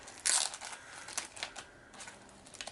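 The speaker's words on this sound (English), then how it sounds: "I have a plastic bag here." Plastic packaging bag handled up close, giving scattered sharp crinkles and rustles, loudest at the start and then irregular softer crackles.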